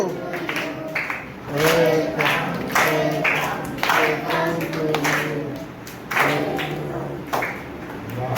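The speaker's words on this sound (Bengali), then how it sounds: "হাততালি দিতে দিতে করো" Children at an orphanage clap their hands in a rough rhythm while voices chant and sing along, with the claps mixed under the singing.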